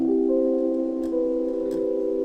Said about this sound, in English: So the first sound we've got is another Omnisphere sound